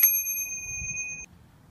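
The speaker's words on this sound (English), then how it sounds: "We got this fancy bell." A single bright ding from a bicycle bell, sharp at the start and ringing out cleanly for over a second before being cut off, heard close and alone.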